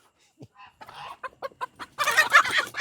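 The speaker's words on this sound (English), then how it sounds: "All this cackling for no reason." Chickens cluck in short separate bursts that build into loud, rapid cackling near the end, up close with no talking.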